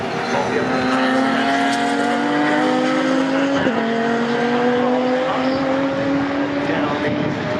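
GT4 race cars, including a McLaren, race along the old pit straight at Silverstone; loud, sustained engine roar with rising and shifting tones from close cars, while a commentator talks over it.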